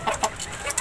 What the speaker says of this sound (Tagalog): update ko lang yung mga alaga kong manok na Crenos breed